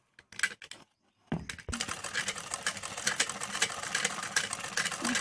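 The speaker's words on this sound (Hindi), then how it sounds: "मैं सिलाई दे रही हूँ" A freshly oiled household sewing machine is turned by hand for a few slow clicks, then runs in a steady, rapid mechanical rattle of stitching, close and continuous.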